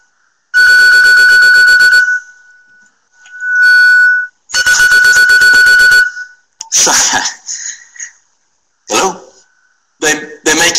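A telephone rings during an online class, its electronic ringtone sounding in loud repeated bursts with short gaps, followed by brief speech and clattering noises.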